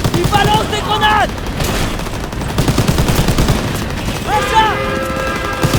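Dense, continuous World War II gunfire and machine-gun bursts from the Call of Duty WWII campaign, loud and close, with voices shouting over the shooting.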